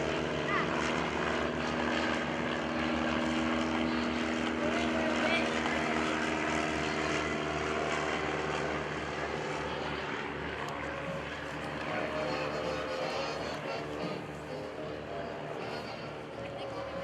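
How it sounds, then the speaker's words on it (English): An L-3 liaison plane, a propeller-driven light aircraft, flies at an airshow, its steady engine drone holding loud and continuous throughout while an announcer talks over it. "This L-3 is Mr. Gene Ostrom flying live for us today."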